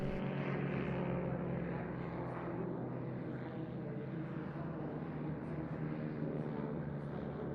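A WWI Fokker D7 and an SE5 propeller biplane fly a mock dogfight at the Leszno airshow in Poland, giving a sustained droning engine and propeller hum with a shifting pitch, moderately loud and continuous throughout.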